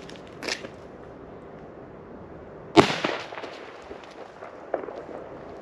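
A Chinese firecracker bursts outdoors during a pre-New Year's Eve fireworks outing: one loud, sharp bang with a short crackling tail, preceded by a fainter pop and followed by a small later crack, with no talking.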